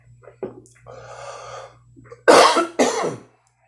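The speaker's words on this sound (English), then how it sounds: "Sorry about that coughing." Two loud, harsh coughs in quick succession, close to the microphone, following a few quieter breathy sounds and a faint steady hum.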